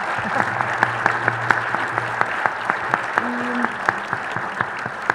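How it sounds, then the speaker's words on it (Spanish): An audience at the Guadalajara book fair claps for authors Claudia Piñeiro and Dolores Reyes, steady crisp applause throughout with a few sharper individual claps standing out and brief voices murmuring underneath. "un aplauso para ellas, por favor."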